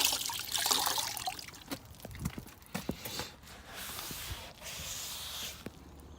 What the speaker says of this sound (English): you can't even really tell until you put the water on it how much